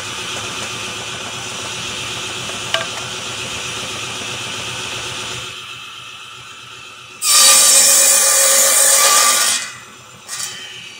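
A wooden cleat being sawn at a marked bevel line: a soft rubbing rasp of steady strokes, then a louder, harsher burst of cutting for a couple of seconds before it fades.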